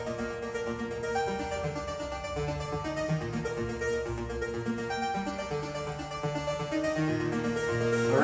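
Sustained synthesizer chords with chorus and a high, shimmering delay ring out steadily and fairly loud, layered tones overlapping and swelling toward the end with no voices.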